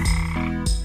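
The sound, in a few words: frog croaking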